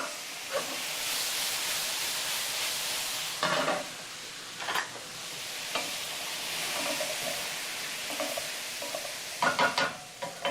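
Sausages sizzle in a pan at brunch, a steady hiss of frying broken by several short clatters and scrapes of a utensil against the pan.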